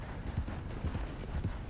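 Horse hooves clip-clop at a steady walking rhythm on a ride home in the Red Dead Online video game, close and moderately loud over a constant low background bed, with no talking.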